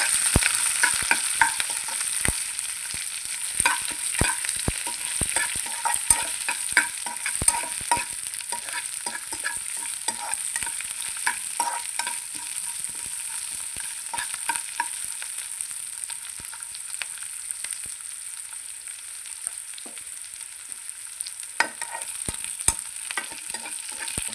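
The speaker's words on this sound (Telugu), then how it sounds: "ఉల్లిపాయ పచ్చిమిర్చి కరివేపాకు వేసేస్తున్నాను అది కూడా వేగిపోవాలి" Onion, green chili and curry leaves frying in a pan, a continuous bright sizzle with frequent sharp spatters and occasional stirring clicks, close and fairly loud throughout, no talking.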